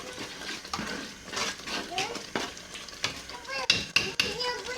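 A spoon stirs ground pepper into a pot of okra soup, giving soft wet scraping and a few sharp clinks against the pot, close by while someone talks over it.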